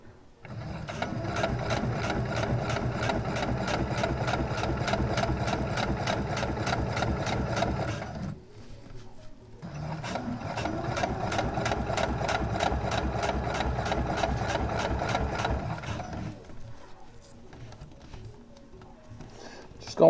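Sewing machine stitching ripstop fabric in a steady, close whirring run, pausing briefly mid-way before resuming, then stopping near the end.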